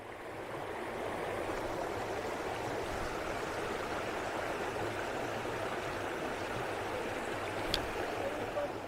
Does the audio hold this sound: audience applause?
no